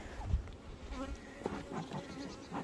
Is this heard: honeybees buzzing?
yes